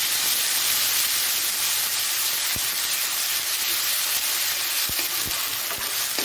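A ginger-garlic spice paste frying in a pan sizzles steadily and loudly up close, with a few sharp clicks of stirring through the dense hiss.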